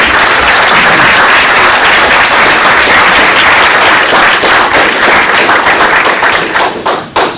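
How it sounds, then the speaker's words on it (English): A school board meeting audience applauds middle school students with sustained, dense clapping that fills the room, thinning slightly toward the end into a few scattered claps. "One more round of applause for our middle school students."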